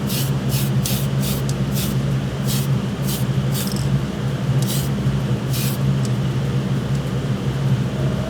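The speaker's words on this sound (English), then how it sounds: "I'm just gonna do one light layer on the front of this" Short bursts of spray primer from an aerosol can hiss onto resin blaster kit parts, about a dozen quick passes in an uneven rhythm, heard close over a steady low background hum.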